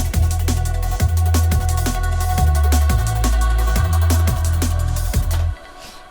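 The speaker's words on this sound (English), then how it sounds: "I've used the X tremolo to automate the volume, so you get this nice choppiness here." A liquid drum and bass track with a tremolo-automated, choppy vocal rides over punchy, steady breakbeat drums and heavy sub bass, playing loud and continuous before stopping near the end.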